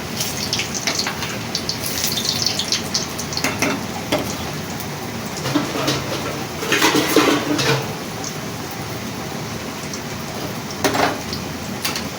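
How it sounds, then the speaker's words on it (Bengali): Potato pieces fry in hot oil in a pan while being turned for a biryani. A steady close sizzle runs throughout, with occasional scraping and clinking as the pieces are flipped, and no talk. "তো উলট পালট করে আমি আলুটাকে ভালো করে ভেজে নেব।"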